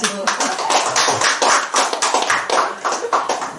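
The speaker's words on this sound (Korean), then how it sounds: "우리 김덕자 전사님 박수 한번 쳐." A church congregation claps together during a worship service, giving dense, rapid, overlapping applause up close with voices mixed in.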